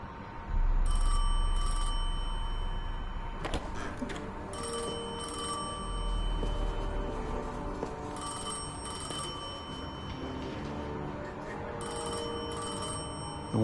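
An old-style telephone in a Destiny 2 video game cutscene rings in repeated bursts of paired trills over a low ambient drone and music, steady and fairly close, with no talk.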